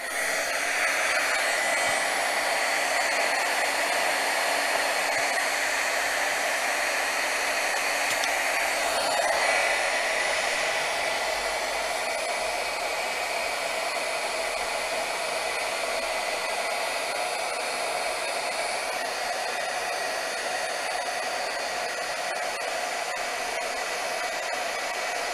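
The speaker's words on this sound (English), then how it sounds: "Excuse the noise of the heat gun." A heat gun used on shrink plastic blows steadily with a constant whooshing, whirring hum, loud and close, running without pause throughout.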